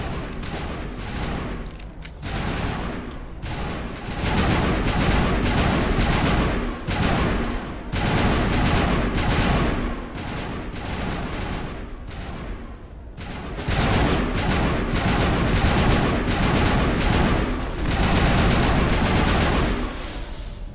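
Sustained heavy gunfire fills a firefight in Mass Effect, with dense bursts of shots, booming impacts and brief lulls between waves, loud and close throughout.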